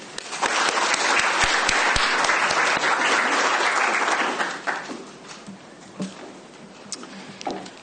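A large audience applauds to welcome a lecturer at a space ethics talk: dense, loud clapping that holds steady for about four seconds, then thins out to a few scattered claps and faint room noise.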